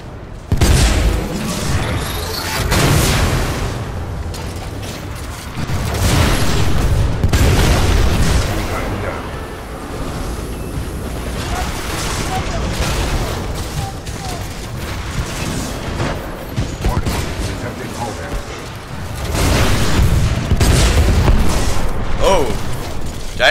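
Gunfire, heavy booms and mechanical clanking from a Titanfall 2 boss fight, loud and sustained with swelling bursts of explosions, while a person talks over the action.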